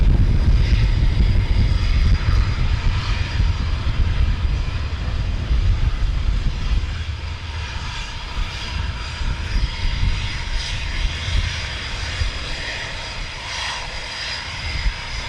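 Military jets depart RAF Coningsby during a NATO exercise, a loud roaring engine rumble that dominates at first, then eases slightly as the aircraft move away and keep up a sustained distant thunder.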